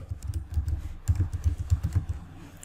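Fingers type on a computer keyboard in a rapid uneven run of close, light key clicks, with a brief pause before a second burst of keystrokes.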